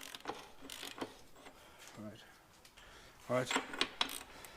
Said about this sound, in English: We will be using a torque wrench to do this back up,